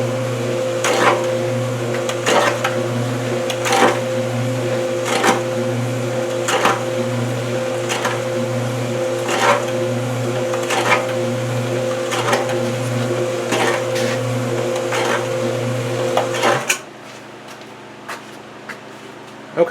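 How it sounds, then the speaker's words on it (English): Homemade sand muller running loaded with sand: a steady motor hum with regular rhythmic knocks about every 1.3 seconds, grinding along for most of the clip before stopping abruptly near the end. "I got some sand in the Muller, and let's turn it on and see how it does."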